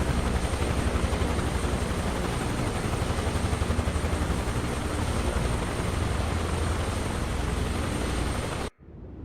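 A helicopter engine and rotor in the Microsoft Flight Simulator video game give a loud, steady, broadband whine and thrum that runs unbroken, then cuts off abruptly near the end.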